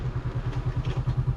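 A Honda CBR 500R motorcycle engine pulses in a steady, fast low thrum while riding, close and fairly loud, with no talking.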